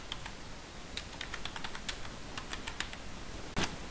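Rapid keystrokes tap on a computer keyboard in a quiet room, a quick irregular series of light clicks ending in one louder press.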